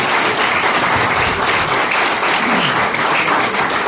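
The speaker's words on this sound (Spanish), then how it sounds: "Denle un aplauso al Señor." A church congregation claps for the Lord during a sermon, a continuous broadband wash of applause sustained evenly throughout, loud and close.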